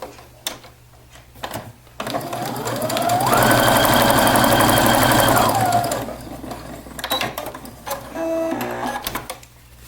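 A sewing machine stitches pressed tucks in fabric, with short clicks and handling noise before a loud, steady run of about four seconds, then lighter intermittent stitching and rattles.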